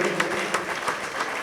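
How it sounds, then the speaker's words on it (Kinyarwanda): A short burst of steady, dense applause from an audience, fairly close and continuous for the whole moment. "amashyi menshi cyane"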